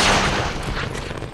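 Submachine gun fire in a multiplayer shooter video game, a dense loud burst of rapid shots that carries on steadily for just over a second, with no talk over it.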